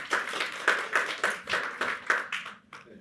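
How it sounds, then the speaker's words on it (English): A small lecture audience clapping in a short round of applause, a near series of regular, evenly spaced claps that tapers off after about three seconds. "Give yourself a round of applause."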